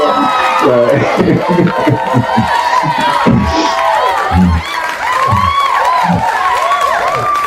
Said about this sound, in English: Let's give her applause for that one.